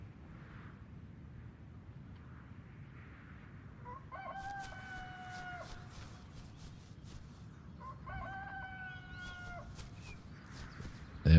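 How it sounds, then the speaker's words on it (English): Roosters crowing at sunrise in the game Vampires: Bloodlord Rising, two separate crows a few seconds apart, faint and distant over a low ambient hum. "Sun's coming up. Where is the sun? I can hear the roosters."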